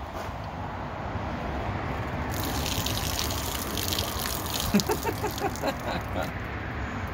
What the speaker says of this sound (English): let's see how much water we get out of it